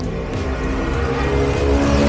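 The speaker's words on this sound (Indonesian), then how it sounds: "Sorry sebentar lagi ada suara mobil nggak kedengeran." A car passes on a street in Semarang, Indonesia, a steady broadband engine and tyre roar that stays loud and near for the whole stretch, with no voices over it.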